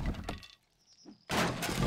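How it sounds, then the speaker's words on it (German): A player crashes through a floor in 7 Days to Die: a loud splintering break, a brief near-silent pause with a faint crackle, then a second heavy burst of cracking and collapsing debris. "Wieso bin ich jetzt hier gerade eingebrochen?"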